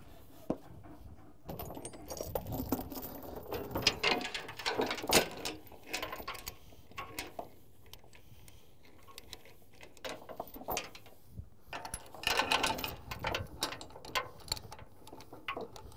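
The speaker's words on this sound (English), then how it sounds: "now I'm gonna show how putting two binders ratchets on the front two corners" Ratchet binders being cranked tight on chains securing a skid steer to a trailer, giving irregular clicking and clanking bursts of metal mechanism sounds, some louder clusters between quieter stretches.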